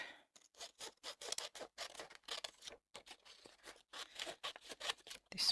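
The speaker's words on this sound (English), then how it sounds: "So I'm just going to cut this one here." Scissors cutting out an acrylic-painted image, a quick run of crisp snipping cuts in an irregular rhythm, close and fairly quiet, with no voices.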